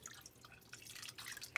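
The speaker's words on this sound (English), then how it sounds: "we're going to put more water in to cover." Water poured from a tap into a stew pot of ham, beans and potatoes in a home kitchen, a faint, quiet splashing and dripping trickle lasting under two seconds.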